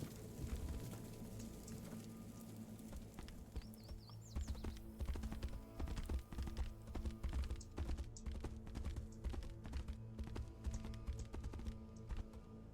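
Horse hooves clip-clop in irregular bursts across ground in the video game Tainted Grail: The Fall of Avalon, close and steady, with a low ambient bed behind them.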